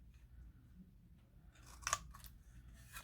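Scissors snip through cardstock while a greeting card sentiment is cut out, quiet and close, with a short cluster of crisp cuts near the middle over a faint background.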